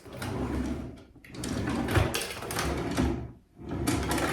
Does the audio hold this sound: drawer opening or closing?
yes